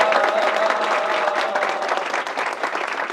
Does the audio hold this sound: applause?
yes